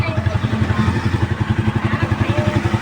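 A Rusi 175 motorcycle engine idles while warming up from cold, a steady, close, rhythmic low chug with even pulses throughout.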